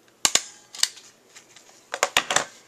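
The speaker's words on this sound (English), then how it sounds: "then we're just going to take a stapler and staple the center" A stapler snaps shut several times on the gathered center of a tissue paper flower, giving sharp, close clicks in small clusters over a quiet background.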